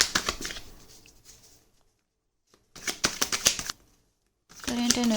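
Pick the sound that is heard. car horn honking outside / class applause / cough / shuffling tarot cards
shuffling tarot cards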